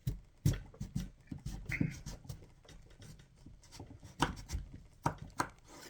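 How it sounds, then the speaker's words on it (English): A knife cuts through a rutabaga with a series of quiet, irregular chopping thuds and scraping strokes close by, fairly faint overall and with no talking. "now what I do next is you can cut this any way you want."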